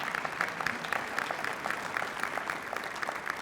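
A church congregation applauds during a sermon, a steady wash of many hands clapping at moderate distance, fairly quiet and even throughout.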